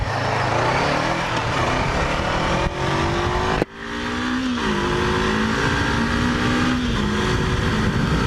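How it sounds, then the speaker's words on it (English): A 2016 Honda CB500F motorcycle accelerates hard along an open road, its engine note rising steadily through the gears with a brief dip at a shift, loud and close under heavy wind rush. "Let's see some acceleration here on this section of road."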